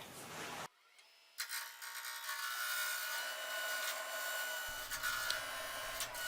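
A segmented wooden bowl spins on a lathe while a tool scrapes and cuts it round, a continuous close hissing rasp with a low motor hum joining partway through.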